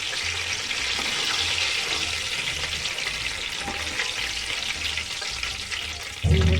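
Leftover roti snacks sizzle in hot oil, a steady crackling fry with faint stirring, ending in a sudden louder clatter.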